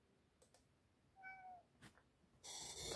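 A cat gives a single short, clear meow at close range, set among faint clicks and followed by a burst of broad noise; no one speaks.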